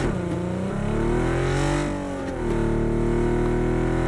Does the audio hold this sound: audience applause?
no